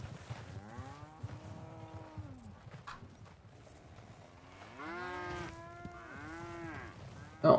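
Cattle mooing in Red Dead Redemption 2, several long, deep drawn-out moos from a herd, some overlapping, with faint hoof clops and a brief louder noise at the end.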